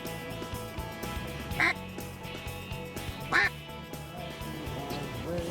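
Mallard ducks quack twice in distinct, fairly close bursts over steady outdoor background noise during a greenhead hunt in Washington.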